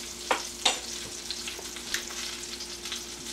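Salmon sizzling in a pan as hot butter is spooned over it, a soft continuous crackle punctuated by several quick spatters and light spoon taps, with a low background hum.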